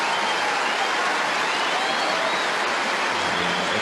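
Tennis crowd applause at a 2012 Australian Open quarterfinal between Nadal and Berdych, a steady, dense wash of clapping from a large stadium audience held at an even level throughout, with no voices on top.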